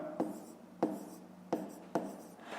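Pen or chalk writing out a fifth-grade maths solution makes four short, sharp tapping strokes spaced about half a second apart, each followed by a brief scratchy trail, close and fairly quiet with no talking.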